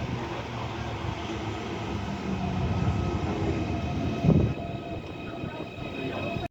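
A Merseyrail Wirral Line train rumbling along the rails from inside a busy carriage, a steady low roar with a brief louder clatter partway through.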